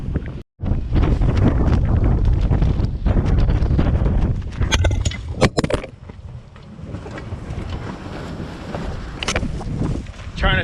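Strong wind on a farm roars across the microphone in heavy, buffeting gusts, loud and continuous, easing somewhat toward the end.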